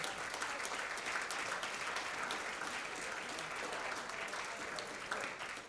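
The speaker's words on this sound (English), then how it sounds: "Another round of applause, please" A steady wash of audience applause at a high school jazz band concert, many hands clapping at once, sustained and even throughout with no voices standing out.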